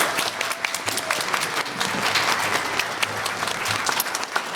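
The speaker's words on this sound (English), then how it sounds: "Thanks for the applause as well." Audience at a student workshop on safer schools and communities claps steadily for the full stretch, a warm, close, continuous patter with no break and faint crowd murmur underneath.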